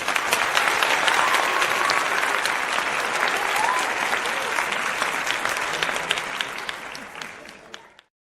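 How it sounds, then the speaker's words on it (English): A round of applause from a podcast studio audience, dense and sustained, moderately loud, gradually thinning out and fading to silence near the end. "we're going to get you a round of applause for your homework"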